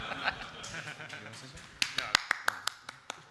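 A single person claps a handful of sharp, evenly spaced times at a technical panel, close and crisp after some background chatter and laughter from the audience.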